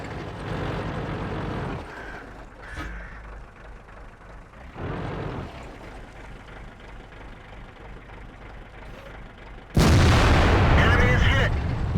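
Artillery shells landing in World of Tanks around an IS-3 tank, heavy booming impacts separated by pauses, with a loud sustained blast near the end over a low engine idle.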